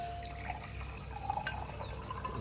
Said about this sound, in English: Carefully fill them up with water.